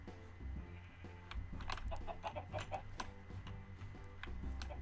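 Chickens in the video game Minecraft cluck in short repeated bursts over a steady in-game background hum, with some ticking sounds mixed in.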